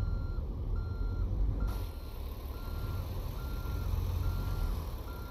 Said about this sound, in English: Who's beeping at me?